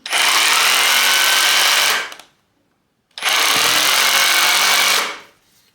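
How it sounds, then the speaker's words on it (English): Two long bursts of a Parkside Performance PKHAP 20V cordless hammer drill in hammer mode with impact mechanism engaged, loud and close, each grinding at a steady high speed for about two seconds before winding down, with a short pause between. "hammer drilling with activated impact mechanism"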